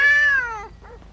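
Cats meow in the GTA 5 video game: one long, loud, clear meow followed by a shorter, fainter second meow, with no talking.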